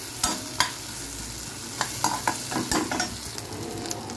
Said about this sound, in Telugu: పోపు పెట్టుకోవచ్చు అండి.